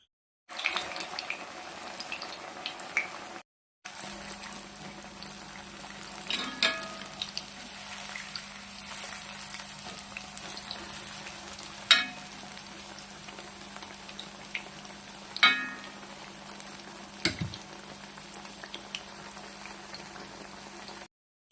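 Pazhampori, banana fritters, sizzle and bubble in hot oil, a steady close frying hiss with small pops and faint clinks. A brief break in the sound comes early on.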